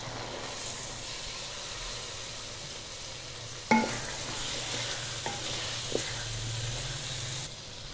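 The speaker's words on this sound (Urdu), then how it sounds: "آلو اور مٹر کی 3 سے 4 منٹ تک مسالے میں بھونائی کریں گے۔" Potatoes and peas fry in a masala in a pot, giving a steady sizzle and hiss, broken by a sharp clatter of stirring and a few fainter knocks.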